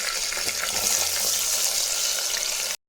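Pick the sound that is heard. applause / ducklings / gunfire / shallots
shallots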